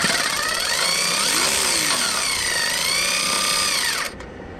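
A power tool with a 14mm socket spins loose the exhaust manifold nuts on a 2004 Toyota Sienna, a loud, steady whirring whine rising and falling in pitch for about four seconds before cutting off.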